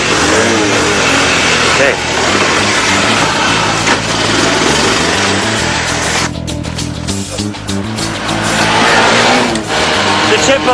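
A car driving around the block, its engine droning steadily and loudly throughout with shifting revs, while someone talks over it.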